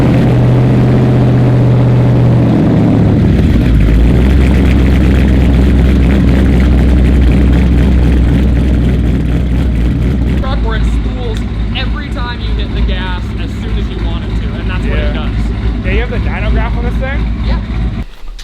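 A twin-turbo Chevrolet Silverado engine drones loudly with deep, steady tones that shift lower early on and keep running throughout, while someone talks over the second half.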